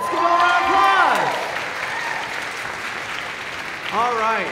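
Applause from the audience at a high school choral holiday concert, continuous clapping under a speaker's amplified voice at the start and again at the end.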